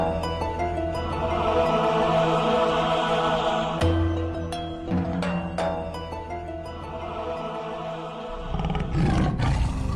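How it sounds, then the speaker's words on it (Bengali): A cartoon white tiger in the Sundarbans forest lets out a long, loud roar that swells and rumbles for several seconds, with no voices over it. "কিন্তু ডাকছে তো বাঘের মতো।"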